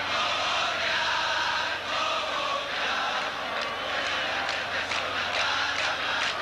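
A football stadium crowd at a 1991 Copa America match between Paraguay and Venezuela, a steady, dense roar of cheering and chanting from a large crowd that holds at an even level throughout.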